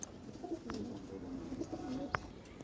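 Tournament racing pigeons coo softly in a loft, a low steady murmur of birds with a brief sharper sound near the end, fairly quiet overall.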